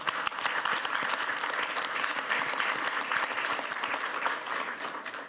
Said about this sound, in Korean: 박수 한번 치면 어떨까?